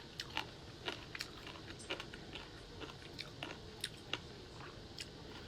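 Someone chews food during lunch, close to the microphone. Soft, crunchy bites repeat at an irregular pace over a quiet room.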